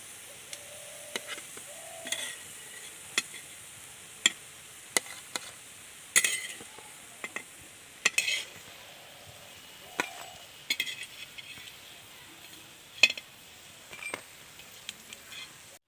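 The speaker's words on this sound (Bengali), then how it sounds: "এবার বাকি বড়াগুলো আমি একই রকম করে ভেজে নেব" Pumpkin flower fritters fry in oil, with a faint steady sizzle under sharp intermittent clinks and scrapes of a utensil against the pan, quiet and close.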